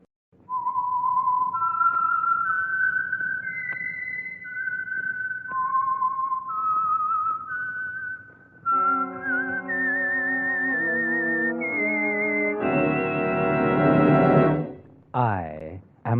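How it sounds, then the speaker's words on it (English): A lone whistled melody plays the Whistler theme, identifying the Signal Oil radio program. Clear sustained notes climb and fall in a slow tune, then an orchestral swell takes over near the end. "the signal to listen for is this whistle that identifies the Signal Oil program"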